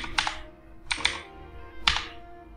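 Three short, close bursts of computer keyboard typing come at roughly even intervals while a search term is entered on a website, each a quick cluster of crisp key clacks.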